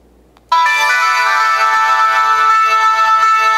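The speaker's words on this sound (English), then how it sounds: "Ringtones, which is basically my music." A BlackBerry Storm 2 9550 ringtone plays loudly through the phone's own speaker, starting suddenly after a brief silence and continuing as a bright, sustained melodic tone.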